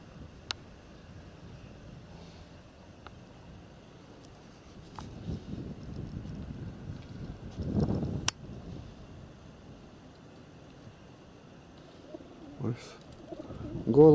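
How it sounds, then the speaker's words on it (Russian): Pigeons cooing in a rooftop dovecote, soft low coos rising in a few brief bursts over faint wind and background noise, with a louder stir near the end. "Голуби очень недружественные."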